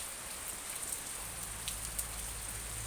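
Steady rain falls at a house in Nakhon Pathom, Thailand, a soft, even hiss of drops with a low rumble underneath, fairly quiet and unbroken, with no voices.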